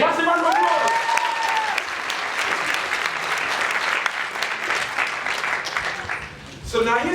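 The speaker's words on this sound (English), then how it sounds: "Massive round of applause!" A big conference keynote crowd bursts into sustained applause, loud and dense clapping that carries on for several seconds before a voice briefly cuts in at the end.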